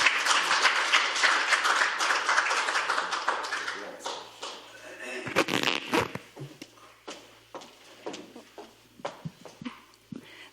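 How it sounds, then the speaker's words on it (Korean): Loud, dense audience applause fills a hall as a speaker is welcomed at a Korean economics lecture, then thins into scattered individual claps that fade out over the last few seconds. "최선의 선태장님을 큰 박수로 모시겠습니다"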